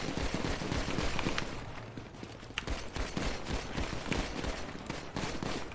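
Dense, continuous gunfire from a roleplay video game fills the stretch, overlapping bursts and rapid shots crackling nonstop at steady loudness with no pauses.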